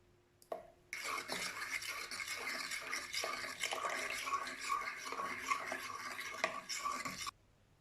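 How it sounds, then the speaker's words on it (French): Quiche lorraine filling being mixed in a bowl as milk is added, a steady close scraping and stirring rasp running continuously for several seconds before stopping abruptly. "Je mélange. Et je vais ajouter le lait."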